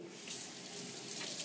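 Water runs steadily from a sink tap, wetting a sponge in a pottery studio before glazing, a short continuous hiss with no talk.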